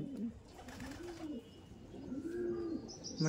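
Andhra pigeons cooing at close range, a series of soft, rising-and-falling throaty coos over faint background noise.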